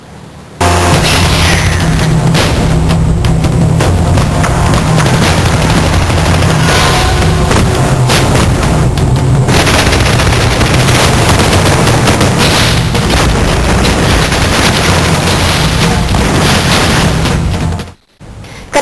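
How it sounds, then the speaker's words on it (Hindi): Heavy, sustained gunfire and explosions during a police operation against gangsters in the Lyari neighbourhood of Karachi, a loud, dense, continuous roar of shots and blasts that runs almost unbroken before cutting off abruptly near the end. "मुख्तलिफ इलाकों में मुसलसल फायरिंग और धमाकों की आवाजें सुनाई दे रही हैं"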